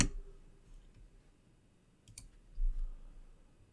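Mouse clicks in the VPSX admin console, a couple of soft, close clicks around two seconds in, alone over a quiet room hum.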